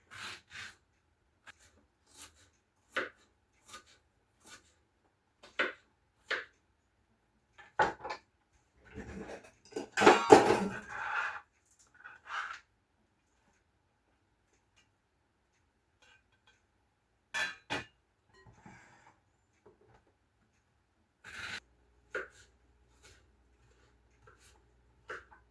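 Knife dicing an onion on a cutting board in a home kitchen: sparse, quiet chopping taps, mostly single or in short runs, with a brief cluster of denser scraping and knocking around the middle and long silent gaps.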